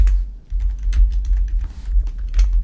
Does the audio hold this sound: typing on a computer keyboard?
yes